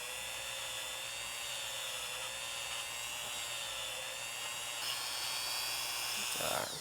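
A Dremel rotary tool spins a polishing bit against the sear of a Ruger Security-9 pistol, a steady high-pitched whine holding level throughout, with a brief shift in pitch near the end.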